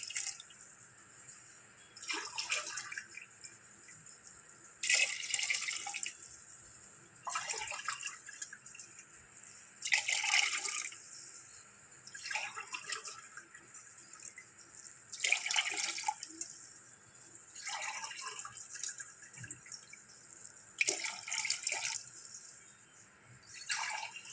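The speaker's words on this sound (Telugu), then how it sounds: "ఈ గ్లాస్తో 6 గ్లాసులు వాటర్ పోస్తున్నానండి" Water poured from a glass into paya shorba in six separate splashing bursts, close by, with short pauses between pours and no talking.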